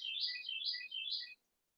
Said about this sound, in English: You might be able to hear the birds outside my open window.